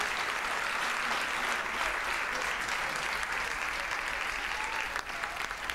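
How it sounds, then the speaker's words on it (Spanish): A crowd at the closing of a regional theatre gathering applauds in sustained, dense clapping with a distant, reverberant quality, steady throughout with slight fluctuation near the end. "El aplauso para la gente del Mangrullo."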